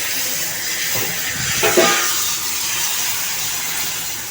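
Rice flour batter for ghavan sizzles on a hot pan, a steady, even hiss that runs unbroken throughout, with a brief slightly louder flare near the middle.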